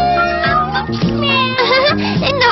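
A cartoon cat meows repeatedly in a series of drawn-out, tonal cries, loud and close, with a musical score running underneath.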